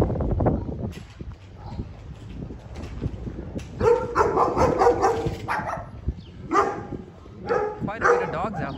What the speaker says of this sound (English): Look, there is a dog sitting over there, ready to bark at me.